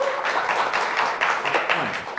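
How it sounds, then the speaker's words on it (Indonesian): A television studio audience applauds for Bung Joy during a talk show, a dense steady burst of clapping heard briefly at moderate volume. "Boleh tepuk tangannya buat Bung Joy"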